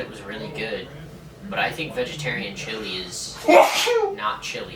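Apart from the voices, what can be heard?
sneeze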